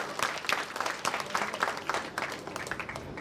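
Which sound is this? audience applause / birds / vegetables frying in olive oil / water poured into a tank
audience applause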